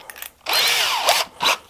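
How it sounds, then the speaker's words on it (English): A power drill pre-drilling holes for door hinges while building a door frame. It gives a short burst, then a sustained whine lasting about three quarters of a second, a brief dip and a final shorter spin, close and loud, with no talk. "So I'm going to pre-drill all these."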